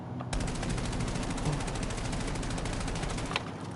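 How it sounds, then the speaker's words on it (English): Call of Duty Black Ops 7 gameplay, with automatic weapon fire aimed at a training dummy: one sustained, rapid burst of shots rattling loudly for about three seconds, with no talking. "So I'm going to try to shoot the dummy real quick and see how it is."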